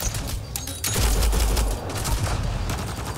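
Automatic weapon fire in Mass Effect Andromeda, a dense, rapid stream of close, loud shots that runs steadily for about three seconds with little pause.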